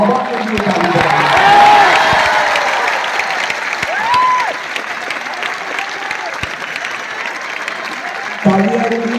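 Audience applause fills a seminar hall at Bapu Sabhagar in Patna, loud and steady and swelling near the start, with crowd voices and a speaker's amplified voice carrying over the clapping.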